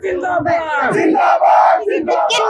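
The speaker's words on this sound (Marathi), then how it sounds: "सर्व पुणेकर जे आहे ते या जल्लोषामध्ये सहभागी झालेले आहेत" A large crowd in Pune roars and chants in celebration, loud and close, with voices rising and overlapping continuously.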